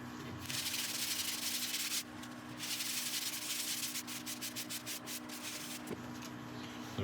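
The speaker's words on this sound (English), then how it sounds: "this paste will produce a surface finish equivalent to about 1000 grit." Yellowheart wood spinning on a lathe as finishing paste is rubbed against it, a steady close rasping hiss that briefly pauses and then resumes with a rhythmic pulsing texture.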